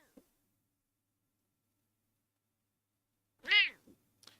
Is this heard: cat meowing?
yes